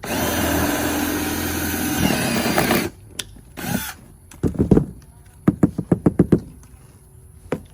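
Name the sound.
drilling holes with a step bit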